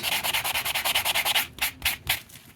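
Sandpaper of about 200 grit rubbing over a hand-whittled wooden cardinal carving, giving a fast, even run of rasping back-and-forth strokes that slows into a few longer, separate swipes near the end, close up with no talking.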